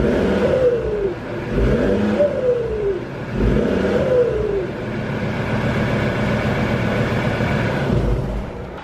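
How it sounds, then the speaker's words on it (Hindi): A BMW car accelerates through its gears while driving, the exhaust note climbing and dropping in repeated revving pulls with a deep woofing burble, close and loud, then easing into a steady cruise. "तो ये एग्जैक्टली जो आवाज़ आ रही है ना, ये है एग्जॉस्ट की वजह से।"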